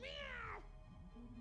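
In the video game Vampire the Masquerade: Bloodlines 2, a character's voice imitates a cat with a single drawn-out, falling meow, close and clear, followed by quiet background game sound.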